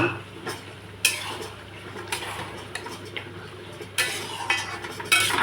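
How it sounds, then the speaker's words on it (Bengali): Meat being stirred and fried into a cooked-down spice paste in a pan, with a steady close sizzle broken by sharp metal utensil scrapes and clinks against the pot every second or so. "মাংসটা এখন এখানে ভাজবো। মাংসটা অনেক কষাতে হবে।"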